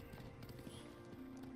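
Horse riding in the samurai video game Ghost of Tsushima, a dense galloping rumble of hooves mixed with game music and ambience over a short stretch.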